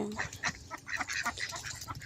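Soft, breathy Muscovy duck calls repeat irregularly at close range against a bit of background noise, with no voices.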